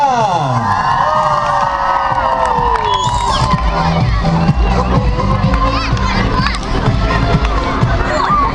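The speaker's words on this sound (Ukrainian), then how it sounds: "Аплодуємо, аплодуємо, шановні друзі, вітаємо!" A crowd with many children cheers, whoops and shouts at a city Christmas tree celebration for Saint Nicholas, loud and continuous, with an amplified voice and music running through it.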